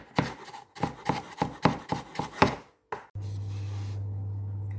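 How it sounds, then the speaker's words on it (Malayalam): A knife chops garlic and then ginger into small pieces, about eight sharp, evenly spaced strikes in quick rhythm, followed by a steady low hum once the chopping stops. "വെളുത്തുള്ളി കട്ട് ചെയ്തു ഇനി ഇഞ്ചി അതുപോലെ ചെറുതായിട്ടൊന്ന്"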